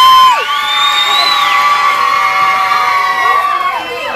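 A crowd of audience members, many sounding young, cheers and whoops loudly for contestant number 1 in a vote by applause for Baywatch 2008, a sustained roar with high shouts rising and falling.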